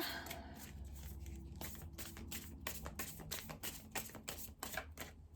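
Tarot cards are shuffled in quick, papery riffles and taps, a steady flurry of soft clicks close by.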